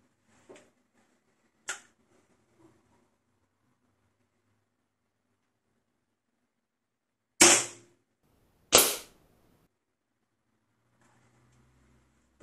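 Weihrauch HW97K 5.5mm air rifle fired in a few sharp, loud cracks, two close together near the end after fainter earlier clicks, with quiet gaps between.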